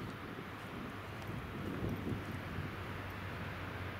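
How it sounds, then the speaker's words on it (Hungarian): Wind blowing along a snowy hiking trail, a steady broad rushing roar with buffeting gusts against the microphone that swell briefly midway, no one talking. "Tehát fúj a szél, de nincs hideg."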